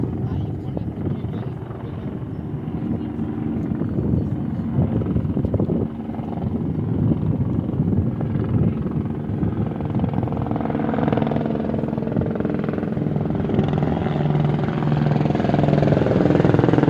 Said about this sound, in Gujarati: મિત્રો અમે ઉપર ચડતા હતા અને અહીંયા તો હેલિકોપ્ટર આવ્યું